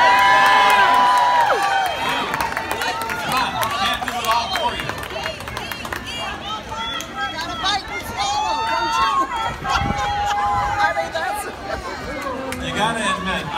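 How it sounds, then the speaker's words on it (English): A crowd at a pierogi eating contest at Pierogi Fest cheers and chatters continuously, with whoops, shouts and scattered clapping in a lively outdoor hubbub. "Now, let's cheer them on."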